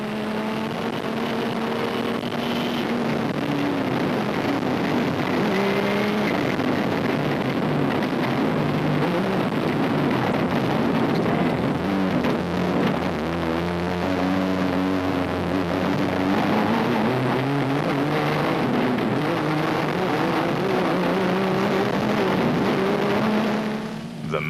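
A big Ford Ranger rally truck races through a muddy rally-raid stage in Lesotho, its engine roaring loudly and steadily throughout with shifting revs and gear changes as it presses on.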